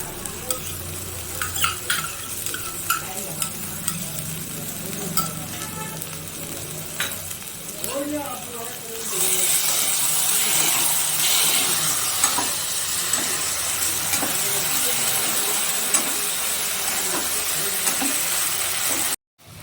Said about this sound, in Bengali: টক দই দেওয়ার পর মশলাটা আমি আবারও কষাবো।